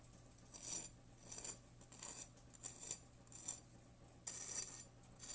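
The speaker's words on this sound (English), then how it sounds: "That is the sound of perfect grilled cheese." Crisp, crackly crunching in repeated bursts, like a toasted sandwich being squeezed and handled up close, with short pauses between each crackle.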